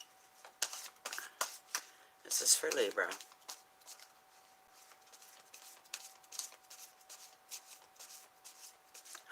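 Tarot cards riffle and snap in a quick shuffle burst, with soft card handling and someone talking over it.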